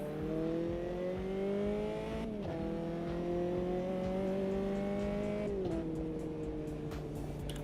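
Race car engine in the sim racing game Automobilista 2, a loud, close, high whine that climbs in pitch through each gear and drops at two upshifts.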